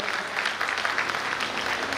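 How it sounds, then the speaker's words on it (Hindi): Applause from an audience honouring an acclaimed performer at a tribute event, sustained dense clapping throughout, moderately loud and steady with no speech over it. "जोरदार तालियों से इनका हम सम्मान करते हैं"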